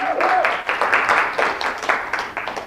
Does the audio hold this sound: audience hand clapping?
yes